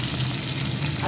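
Onion frying in a pan for a Bengali dish with fish head and greens, a steady bright sizzle of hot oil, close and continuous with no talking.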